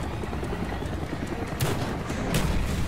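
Gunfire in the Call of Duty Black Ops video game: a steady wash of battle noise with a couple of sharp, loud shot bursts cracking through midway and near the end.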